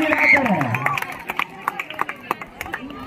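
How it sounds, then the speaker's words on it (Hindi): Spectators clap at a girls' state kabaddi tournament final in Bihar, with scattered sharp claps building into a patter over crowd noise after a voice speaks loudly at the start. "दर्शकों से अनुरोध है, जोरदार तालियों से खिलाड़ियों का उत्साह बढ़ाए और मैच का आनंद लें, तालियों में कंजूसी ना करें।"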